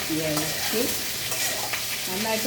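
Okra and green chillies sautéing in a hot pan, a dense continuous sizzle and crackle with stirring scrapes throughout, loud and close, no talk.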